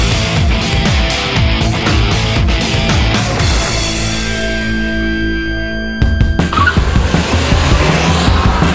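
A Citroën C4 Lounge is driven hard on a race track, its engine revving loud and close with tires squealing in long skids, then the revs drop and the engine pulls back up at a gear change.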